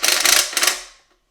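Bolts being tightened into the thin sheet-metal bar of a 1500-watt electric patio heater, giving a short close ratcheting, clicking burst of about a second, with two rapid rattling bursts that then fade out.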